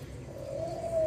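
A captive spotted dove (tekukur) on a breeding farm gives a single soft, low coo that rises slightly, heard close and clear over a quiet hum of background noise.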